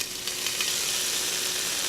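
Chopped ginger sizzles steadily in hot oil in a pot, a close, even hiss with no voices.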